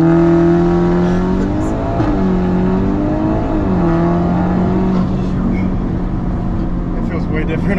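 A 2022 Audi S3 (8Y) launches and accelerates hard, its loud engine note climbing through gears with distinct shift dips, recorded close from inside the car, with people talking over the roar.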